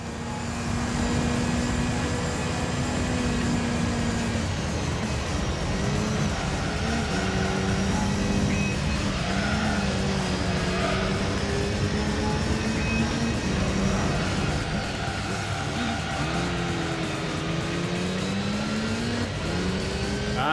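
Mitsubishi Lancer Evo GSR engine in the Gran Turismo 3 racing game, a steady loud drone with a sustained pitch that rises and falls through gear changes, continuous and close for the whole stretch with no talking.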